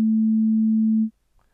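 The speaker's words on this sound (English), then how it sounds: "a sine wave, has a constant pitch of the note A3 at 220 Hz" A steady, pure 220 Hz sine tone at the note A3 holds constant for about a second, then cuts off abruptly into near silence.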